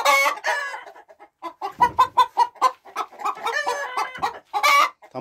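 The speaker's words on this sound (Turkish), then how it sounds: "Şurada gördüğünüz benim gurk tavuğu." A broody hen clucks in a chicken coop, near and loud, with a run of repeated clucks and short squawky calls that rise and fall over about five seconds.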